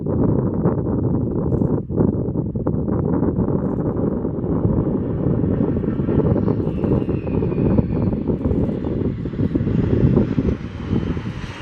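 A-10 jet flying a low show-of-force pass at the Oshkosh EAA AirVenture airshow, a heavy continuous engine roar with wind buffeting that swells and rises in pitch toward the end, with no talk heard.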